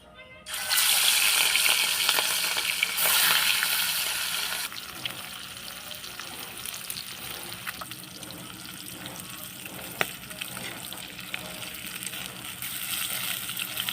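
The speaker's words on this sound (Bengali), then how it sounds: "মাছটা দেখুন ভাজা হচ্ছে" Pieces of rohu fish fry in hot oil with a loud, dense sizzle for the first few seconds, then settle into a quieter, steady crackle with scattered clicks.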